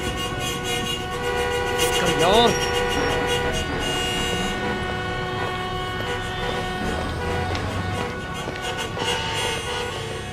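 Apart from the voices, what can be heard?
car horn honking repeatedly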